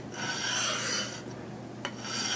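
A file rasping along a hedge cutter blade to sharpen it, a loud close grinding stroke followed by lighter scrapes, with a couple of brief clicks and no talking.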